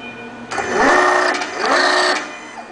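REXA hydraulic double rod cylinder actuator moving, a whirring motor drive that rises in two strokes about a second apart, then stops, heard close with little else around.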